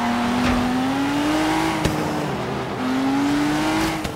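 Ford GT race car engine from Forza Horizon 3 drones steadily at high revs, its pitch climbing through a gear, dipping at a brief shift, then rising again, loud and continuous with no talk.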